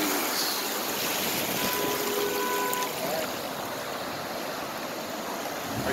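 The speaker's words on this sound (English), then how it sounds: "And here come the waves." Flood water surges and washes in continuous waves as a Honda Accord drives too fast through a flooded Chicago-area street, a broad steady rush of splashing water filling the scene.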